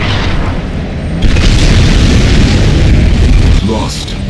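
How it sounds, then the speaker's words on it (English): A nuclear missile detonates in Command & Conquer 3: Kane's Wrath, a loud sustained booming roar that swells sharply and rumbles for a couple of seconds before easing off. "Nuclear missile launched."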